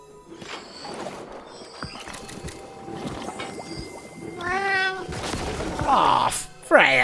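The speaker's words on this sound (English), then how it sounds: "We do like a good meow." A cat meowing in the video game Mind over Magic: several drawn-out, wavering meows grow louder toward the end, mixed with game sounds and a person talking over them.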